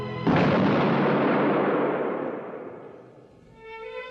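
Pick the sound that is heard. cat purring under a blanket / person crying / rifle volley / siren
rifle volley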